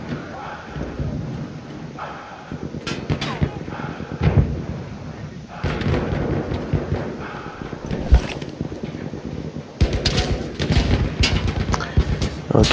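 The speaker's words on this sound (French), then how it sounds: "On va mettre une petite grenade" A grenade blast and bursts of gunfire ring out in a Battlefield 1 match, booming explosions and rattling shots rolling in loud clusters over a constant battlefield rumble.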